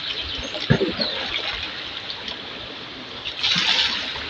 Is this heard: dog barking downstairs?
no